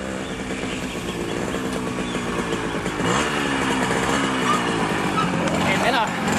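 A 1983 Simson S51 moped, an East German two-stroke, runs with a buzzing, revving engine that rises in pitch partway through, heard close and continuous, with voices talking over it.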